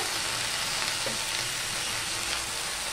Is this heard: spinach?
yes